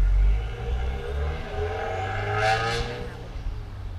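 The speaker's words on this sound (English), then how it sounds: "The turbo sounds all loud on it." Subaru WRX with a turbo engine, a loud continuous motor drone with rising whirring tones as it revs or pulls away, fairly close with no talking.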